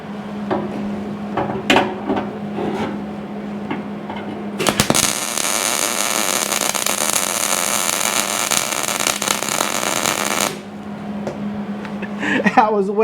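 MIG welding on nuts with shielding gas switched on, working on a 1953 GMC front end: a sustained crackling, buzzing arc of about six seconds, set between clanks and handling noises in a workshop hum.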